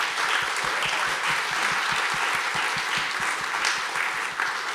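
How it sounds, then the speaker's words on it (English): A small crowd at a chamber of commerce event gives a round of applause: dense, lively clapping for nearly five seconds, close and fairly loud, with no speech over it. "So I would just love to give you a big round of applause."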